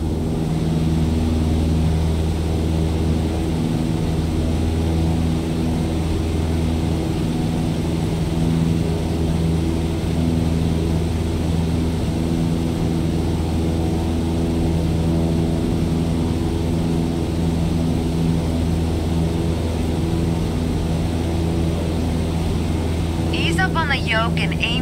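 Propeller aircraft engine in Microsoft Flight Simulator as it throttles back, a steady loud droning hum with strong low harmonics that continues unbroken throughout, with a brief higher rattle near the end.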